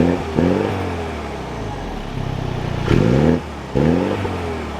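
A 2023 Mini Cooper two-door hardtop John Cooper Works fires up nearby with a quick whir and catch. Short, sharp revs follow, settling into idle between bursts.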